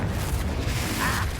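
A Confringo fire-blast spell explodes in Hogwarts Legacy, a deep, rumbling boom filling the short moment at steady loudness, heavy in the low end with no voices.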